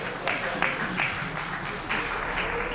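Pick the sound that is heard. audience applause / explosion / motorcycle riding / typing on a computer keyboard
audience applause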